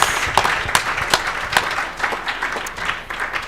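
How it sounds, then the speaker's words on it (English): A room of people applauding panelists at an Africa Month leadership and sustainability dialogue, a steady moderate patter of many hands with a few sharper individual claps standing out, close and unbroken by speech. "A round of applause for our panelists."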